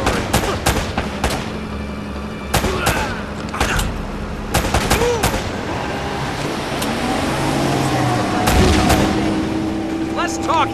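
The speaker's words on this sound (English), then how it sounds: "Talking, more shooting." Gunfire erupts in Uncharted: Drake's Fortune during an ambush, with sharp shots and short bursts scattered over a rumbling background, then a steadier engine-like drone toward the end.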